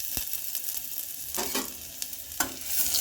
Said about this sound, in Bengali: এই যে গরম মশলাটা একটু ভাজা ভাজা হয়েছে, এবার আমি এতে 2 কোয়া রসুন দিলাম।